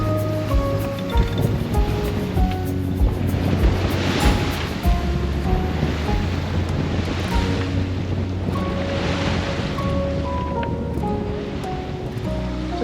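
Steady rush of waves against a sailboat's hull with wind noise buffeting the microphone while beating upwind off Greece, a continuous close wash of water and gusts with scattered faint creaks and clicks.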